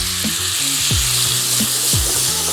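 Garlic cloves dropped whole, skin on, into hot oil and butter sizzle steadily up close, with a loud continuous hiss broken by a few soft knocks as the cloves settle in the pan.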